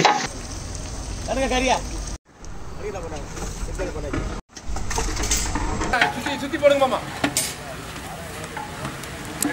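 Biryani, about 130 kilos split across three big cooking pots, being stirred with sizzling, scraping and sloshing churning under loud talk, with two short breaks in the sound.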